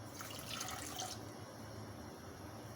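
A cup of water being poured into a pan of tamarind pulp and other chutney ingredients on the stove, a steady close splashing pour that stops partway through and leaves a quiet hiss.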